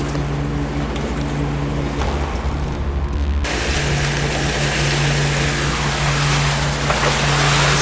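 Storm wind and waves surround a sailboat riding at anchor at night, a loud continuous rush of water and gusts, with a low hum underneath, that swells sharply midway and stays roaring.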